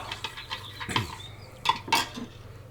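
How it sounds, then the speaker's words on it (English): Stock for a cottage pie stirred in a pot, with a spoon clinking and scraping against the sides in quick irregular knocks, close and fairly loud, with no speech. "Give it a good stir."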